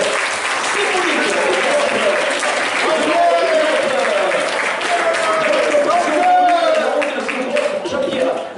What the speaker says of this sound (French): Jean-Pierre Semin, on peut l'applaudir